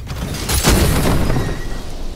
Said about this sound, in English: Jump into this cannon